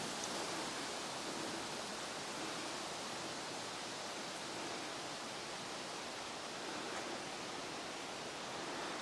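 A brook flows through a rocky gorge lined with cliff faces in Acadia National Park, near Sieur de Monts Spring. It makes a steady, even rushing wash that is faint and continuous, with no voices over it.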